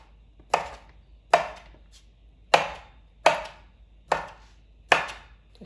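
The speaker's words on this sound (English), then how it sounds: "Let's cut it in julienne." A knife slices turkey sausage into julienne strips on a board, giving six sharp, evenly spaced chops that ring out clearly with quiet gaps between them.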